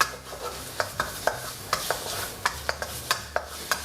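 Curry paste and sugar are stir-fried in a pan for a grilled stingray curry-paste dish, heard as a soft sizzle under a steady series of sharp spatula scrapes and taps, roughly every third of a second, close and moderately loud.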